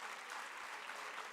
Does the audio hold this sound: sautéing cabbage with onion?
no